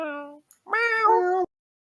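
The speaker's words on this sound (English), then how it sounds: "No, those are meows." A cat meows twice, a short mew followed by a longer, louder drawn-out meow, close and clear with no talk over it, during a stream of an osu! World Cup 2016 semifinal.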